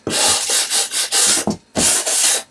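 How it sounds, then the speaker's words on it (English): Rhythmic rasping strokes of a sanding block on wood, close and fairly loud, about eight back-and-forth passes with a short pause near the end. "I'm going to take a little sanding block and just go over it very lightly"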